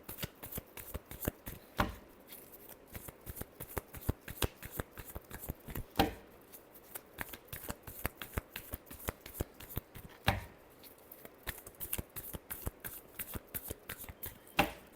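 Tarot cards being shuffled by hand, a dense run of crisp rapid riffling snaps and flicks, close and fairly quiet, continuing steadily throughout with a few sharper taps.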